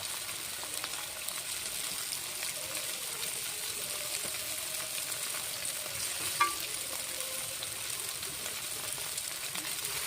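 Eggs frying in a pan, giving a continuous soft sizzle and crackle that stays even and fairly quiet for the whole stretch, with one faint clink partway through and no talking.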